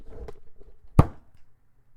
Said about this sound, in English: So I thudded my hand against the desk.